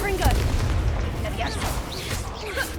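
The Confringo blasting spell erupts in the video game Hogwarts Legacy, a dense, rumbling explosive roar that stays loud throughout, with crackling debris and voices faintly woven into the blast.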